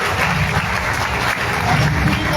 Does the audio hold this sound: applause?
yes